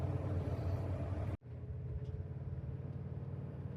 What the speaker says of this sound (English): Nothing beats driving to a new place in the RV